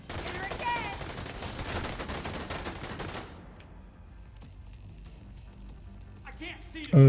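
Rapid, dense gunfire from a video game rattles loudly in overlapping bursts for about three seconds, then cuts off, leaving quieter background sound and a sudden loud thump at the very end.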